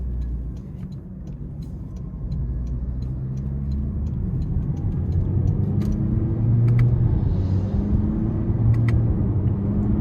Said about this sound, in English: these are simulated shifts because it is a CVT, and it's kind of fun because it feels so snappy when you downshift